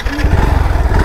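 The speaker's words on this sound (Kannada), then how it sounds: "ಒಂದೇ ಸೆಲ್ಫ್ಗೆ ಸ್ಟಾರ್ಟ್ ಆಯಿತು" A Yamaha FZS V4 motorcycle engine, just fired up on the electric self-starter, chugs loudly and steadily at close range with a rough, pulsing idle and no talking.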